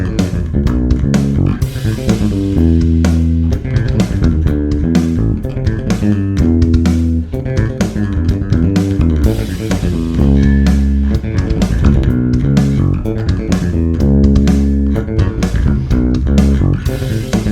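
An electric bass plays a fast, driving main line, loud and busy with rapid repeated notes and a heavy low end, continuous for the whole stretch.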